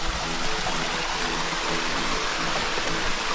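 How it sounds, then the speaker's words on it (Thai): A jungle waterfall in Thailand rushes steadily and close by, a dense, unbroken roar of falling water with no voices over it. "ถึงแล้วค่ะน้ำตก"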